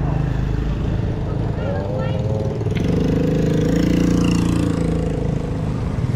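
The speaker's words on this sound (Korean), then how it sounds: "시간이 시원해지니까 오토바이들이 많이 다니네요" Motorcycles ride along a village road in a remote rural Lao village, one small engine droning closer and louder midway before easing off, over steady outdoor background noise.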